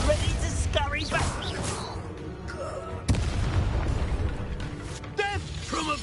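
Spell explosions in the video game Hogwarts Legacy: heavy booming blasts and bursts over rumbling battle noise, with a sharp hit midway and another near the end, while voices shout over the action.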